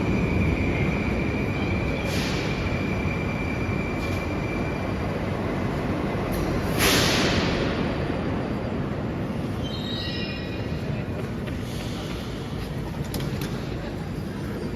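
Kazan metro train running, a loud continuous rumble and roar of wheels on track with faint metallic squeals and whines rising and falling, heard from inside the car.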